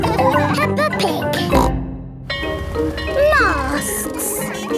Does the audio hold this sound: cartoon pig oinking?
yes